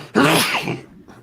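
A single short, forceful sneeze in the US House chamber during a roll-call vote, close and loud, trailing off into a brief breathy tail.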